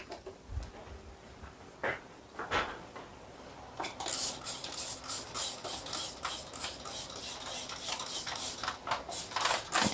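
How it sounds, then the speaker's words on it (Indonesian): Spray bottle misting cleaner over the top of a kitchen stove, a rapid run of short hissing spritzes in steady rhythm, close and fairly loud after a few quiet knocks and handling sounds. "Nah, ini bagian atasnya mau aku semprot dulu teman-teman."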